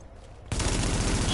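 Rapid automatic gunfire from a firefight in The Division erupts suddenly after a brief lull and continues as a dense, loud barrage.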